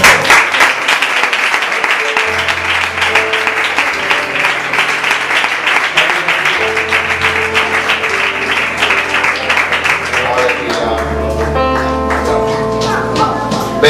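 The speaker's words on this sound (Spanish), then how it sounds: "aplauso más fuerte" A church congregation applauds during a sermon, a dense, steady wash of clapping that stays loud the whole way through, with a low musical hum entering beneath it.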